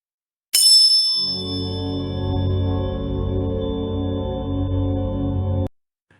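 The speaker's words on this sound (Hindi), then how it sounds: "बस एक भारी घंटी की आवाज आ रही थी।" A single bell strike rings out sharply, then a deep, resonant hum sustains for several seconds before cutting off abruptly.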